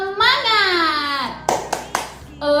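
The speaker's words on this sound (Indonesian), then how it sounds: "Ibu Guru mau ajak anak-anak untuk tepuk semangat." A Bahasa Indonesia tepuk semangat clapping routine in a small-children's class: a sung chant, then three sharp, close hand claps in quick rhythm, with a voice starting up again at the end.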